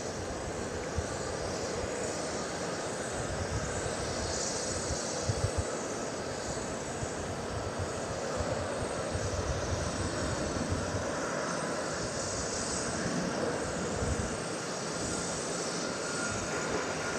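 Southwest Airlines Boeing 737 jet at Dallas Love Field, a broad continuous engine roar with a steady rushing hiss, loud and sustained throughout with slight swells as the aircraft moves.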